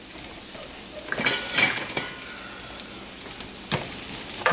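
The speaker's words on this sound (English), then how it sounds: "Move it around so that way the garlic doesn't burn." Garlic and green beans sauté in olive oil while a utensil stirs the pan, making light, scattered clinks and scrapes over a faint sizzle.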